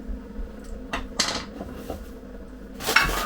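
A spoon knocked against the metal pot of a Cosori pressure cooker holding pea and ham soup, a few sharp clanks spaced irregularly, fairly close and moderately quiet against a low background hum.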